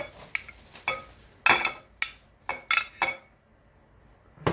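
A utensil stirs and scrapes through courgette tabbouleh in a bowl, giving a series of close, irregular clinks and scrapes separated by brief quiet gaps.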